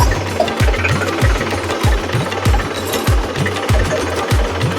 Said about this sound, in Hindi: ये तरीके से ये ट्रैक्टर हमारा बैक हो रहा है।